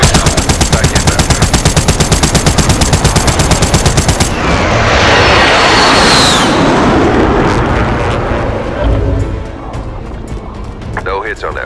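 An airstrike in Call of Duty: Modern Warfare opens with rapid, loud, evenly pulsing automatic gunfire, then gives way to a roaring rushing blast and a long rumbling explosion that slowly fades, with faint clatter at the end.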